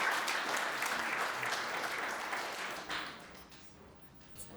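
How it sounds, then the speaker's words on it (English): Audience applause at a CannaGather NY gathering, a broad crowd clapping that starts full and gradually fades out over a few seconds. "So a round of applause for you guys."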